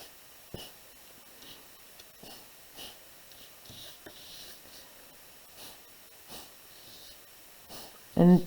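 Short, sharp puffs of breath blow ink blobs across paper in a drawing, a series of soft, close bursts repeating every second or so, with one louder, fuller blow at the end.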